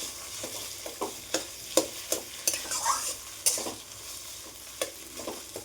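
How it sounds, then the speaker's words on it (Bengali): Food frying in oil in a home kitchen is stirred with a utensil, giving soft sizzling broken by repeated scraping strokes and light clinks against the pan, fairly quiet and close. "তেলে একটু নাড়াচাড়া করে নেবে।"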